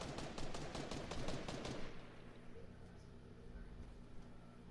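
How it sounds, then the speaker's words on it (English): A rapid burst of video game gunfire crackles in quick repeated shots for about two seconds, then fades into a quieter background hum while people talk. "Who the fuck is shooting at me?"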